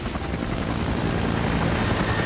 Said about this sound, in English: The helicopter approached from the west, rising several hundred feet.